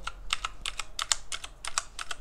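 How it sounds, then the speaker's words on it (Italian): Keys on an RGB gaming keyboard with brown mechanical switches clack in a brisk, steady run of typing, close up and fairly muted, with no voice. "Ho scelto appunto eh, gli switch quelli brown perché, al contrario di quelli blu che mettono un click allucinante, la volevo un po' più silenziosa"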